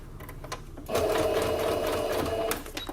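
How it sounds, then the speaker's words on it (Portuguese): A sewing machine runs steadily, stitching bias binding close to the edge of fabric for a small oral-hygiene pouch, starting after a brief quiet moment and holding a close, continuous whir to the end. "Vou costurar, a minha costura eu vou passar bem aqui"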